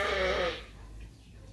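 Sheep bleat loudly and close by on a farm in freezing weather at lambing time, a strong cry fading after half a second into quieter barn ambience.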